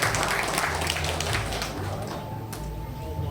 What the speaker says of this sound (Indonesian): Tepuk tangan untuk Kelurahan Sumber Taman